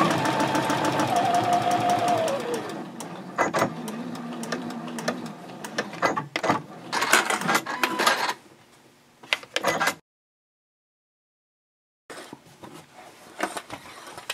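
A sewing machine stitches fabric and backstitches, running in a rapid mechanical clatter that starts and stops, briefly reverses, then stops into silence for a couple of seconds before the stitching starts again, close with no voices.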